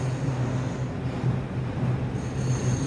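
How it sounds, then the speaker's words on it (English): A long train rolls past at night in Hamburg, its wheels squealing in a sustained tone over a heavy, steady rumble and rhythmic clatter, loud and close with no talking. "That's a long ass train."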